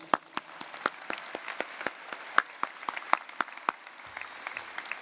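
At The Colony High School's 2024 graduation ceremony, the audience claps, producing a sparse run of sharp claps spaced through the hall. The claps sound fairly near and moderate in level, and no one talks over them.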